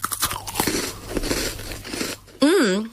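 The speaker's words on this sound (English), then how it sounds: "It's the right amount of crunch and OMG, so much chocolate." A crunchy chocolate snack bitten and chewed up close, crisp crackling crunches for about two seconds, then a voice speaks.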